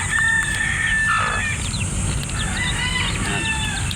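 Chicks and hungry chickens being fed, a busy mix of high peeping chirps and clucks from several birds close by over a low background rumble.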